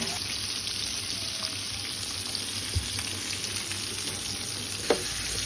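Steady oily sizzling of pomfret frying on a hot griddle, a continuous crackling hiss with a couple of sharper pops, no voices.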